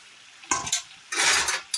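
Pre-fried papaya pieces drop into a pan of masala cooking in oil, giving two bursts of loud, close sizzling and scraping separated by a short pause.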